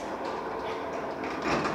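Old 1980s MLZ passenger elevator doors in Kharkiv slide with a steady rumbling, rattling scrape that swells slightly toward the end, close and continuous, with no voices.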